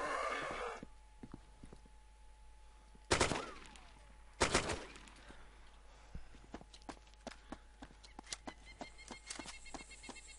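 Gunfire aimed at a zombie in the Arma 2 DayZ Mod video game: two loud, sharp shots a second or so apart, followed by a string of fainter clicks and taps in an otherwise quiet scene.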